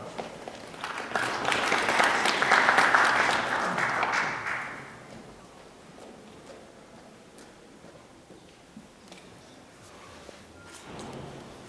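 Audience applause at a Polish exporters' congress award ceremony, a broad wash of clapping that swells for about four seconds, then fades into quieter scattered claps and room noise.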